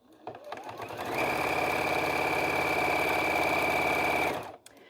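A sewing machine runs steadily while stitching binding onto a finished quilt: a close, continuous motorized whir with a high whine that starts after a few light clicks, holds for about three seconds, then stops.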